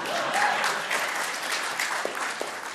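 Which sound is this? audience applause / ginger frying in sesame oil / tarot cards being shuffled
audience applause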